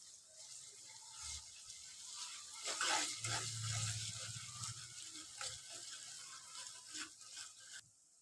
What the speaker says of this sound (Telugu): మంచిగా అల్లం పేస్ట్ పసుపు ఆనియన్స్ మంచిగా ఫ్రై అయినాయి కదా